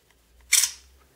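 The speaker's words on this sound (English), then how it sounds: "So let's half press that shutter again" A Motorola Milestone (Droid) phone camera fires its shutter with a half-press and LED flash, giving one short, crisp, close click that fades quickly in a quiet room.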